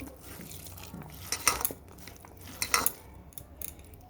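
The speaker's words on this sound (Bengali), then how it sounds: "এবার আমি খুব ভালো করে চটকে নেব খুব ভালো করে মেখে নিতে হবে" Pointed gourd bharta being mashed and mixed in a bowl, soft squelching with several sharp clinks of a utensil against the dish, close and fairly quiet, with no talking.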